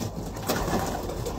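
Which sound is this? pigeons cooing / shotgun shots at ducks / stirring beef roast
pigeons cooing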